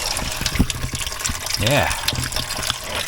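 Coolant drains from the radiator of a Mercedes GL320 CDI with an OM642 engine in a fast gushing pour, and a person speaks briefly over the liquid.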